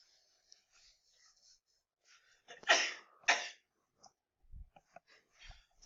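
A single sneeze in a classroom during a math lesson, a short sharp double burst near the middle of a quiet stretch, with faint whispering and soft noises around it.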